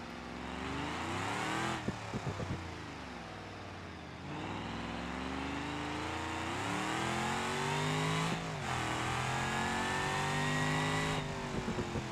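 A track car's engine in BeamNG.Drive revs hard and loud through rising and falling sweeps, with shift breaks between pulls. The car sounds close and steady and there is no talk.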